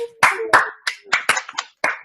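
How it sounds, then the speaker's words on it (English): A few close, sharp hand claps in a virtual meeting, about seven irregular claps spaced through two seconds, with a faint tone in the background at the start. "let's find some time to give some applause to Melba"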